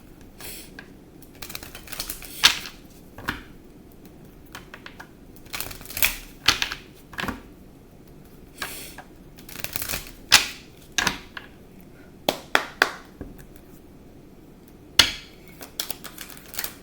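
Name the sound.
shuffling tarot cards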